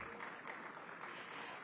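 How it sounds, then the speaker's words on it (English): Sustained audience applause at a News18 Rising Bharat Summit, a steady wash of many hands clapping together for the whole stretch at a moderate, even level with no voices over it. "Huge round of applause, ladies and gentlemen."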